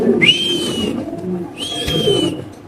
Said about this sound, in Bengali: খুব সুন্দর এক জোড়া আইসবার দামাসিন কবুতর নাকি ভাই?